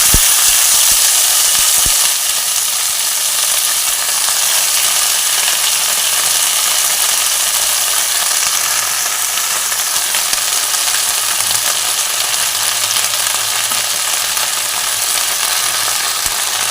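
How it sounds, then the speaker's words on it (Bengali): Water spinach, kalmi shak, frying in a pan with a steady, loud, dense sizzle that holds unbroken throughout, a brief clatter near the start. "দিয়ে একটু ভেজে নেবো হালকা করে। কেটে রাখা শাকগুলো দিয়ে দিলাম।"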